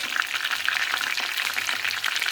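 Eggplants frying in a hot pan on a stove, a crackling, steady sizzle that stays loud and close without pause.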